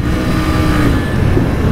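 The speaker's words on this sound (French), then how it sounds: "Petite accélération pour se faire plaisir" A Royal Enfield Continental GT 650 motorcycle accelerates with a loud, close, steady engine roar mixed with heavy wind rush and no talking.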